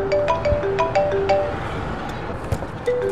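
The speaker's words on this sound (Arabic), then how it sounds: "هاي صاحب الامانه اتصل علي." A mobile phone rings with an incoming call, playing a bright, melodic ringtone of short repeating tonal notes, close and clear over faint background noise.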